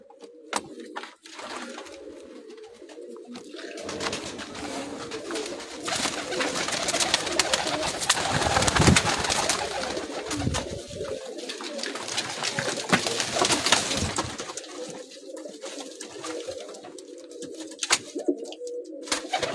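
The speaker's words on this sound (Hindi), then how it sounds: "ये जी कुछ ब्रीडर कबूतर हैं।" Breeder pigeons coo in repeated soft, throaty phrases on a rooftop, steady and fairly close throughout, with a busier stretch in the middle and no talking over them.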